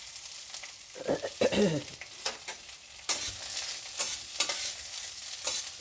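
Onions frying in hot oil for homemade chilli chicken, a soft sizzle broken by scraping, clattering stirs of a spatula in the pan, close and moderately quiet with no voices.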